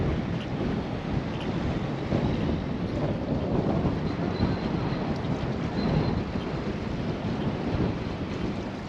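Cold winter wind buffets the microphone in Reykjavik, Iceland, a steady loud rumbling blast with gusting swells that lasts throughout, no voices heard.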